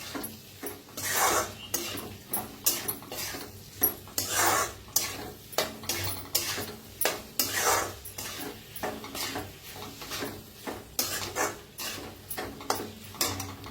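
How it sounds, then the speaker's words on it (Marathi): A spoon stirs an eggplant and potato vegetable dish mixed with crushed peanuts, scraping the pan in steady, repeated strokes with a faint sizzle beneath, close and moderately loud, with no voices. "आता छान असं मिक्स करूया."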